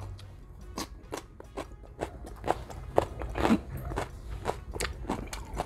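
A raw cucumber is bitten and chewed during a mukbang meal, giving sharp crisp crunches close to the mic in an uneven series of about a dozen bites, rising in density toward the middle, with no talking.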